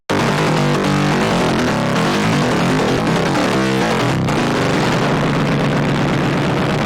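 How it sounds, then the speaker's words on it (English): Dense, layered synth bass rumbles continuously with a gritty, detuned thickness, a brief sharp hit partway through before the drone carries on. "duplicate it, change it up a little bit so that you have a double thick mid-bass"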